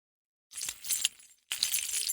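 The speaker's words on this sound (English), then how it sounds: "I have some good keys for jingling" A bunch of keys jingles in two short bursts of bright metallic clinking, close and fairly quiet, separated by a brief pause, with no voices.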